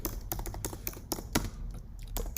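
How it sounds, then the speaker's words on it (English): Quiet, quick keystrokes on a computer keyboard, a rapid irregular run of clicks and taps close by with no talking. "And let's type in Python"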